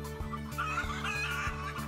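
Hens cluck faintly inside a hen house with an enriched colony cage system, their short calls running over a steady low mechanical hum.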